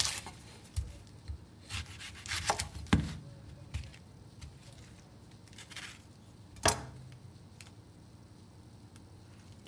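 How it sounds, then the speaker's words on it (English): An onion being cut into small strips with a knife, giving scattered close knocks and rubbing scrapes at an irregular pace, with a sharper chop near the start and another a few seconds later. "we're going to be starting with our onion. We're going to cut it into small strips."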